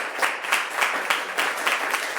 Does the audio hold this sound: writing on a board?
no